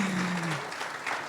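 A church congregation claps together for a pastor, a brief burst of dense applause that starts loud and fades slightly over about a second.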